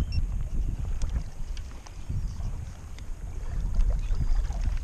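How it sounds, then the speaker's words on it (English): Gusty wind buffets the microphone on a small fishing boat out on the water of West Bay near Texas City, with low rumbling gusts rising and falling and faint water slaps, no talking. "Windy day out here, man."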